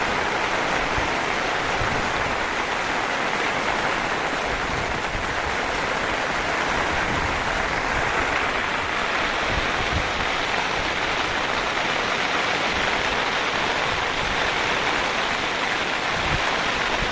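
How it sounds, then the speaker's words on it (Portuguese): Steady rain falling in sunshine with no thunder, a dense even hiss of drops on surfaces and puddles, close and continuous throughout with no talking. "Chuva boa, pessoal, chuva."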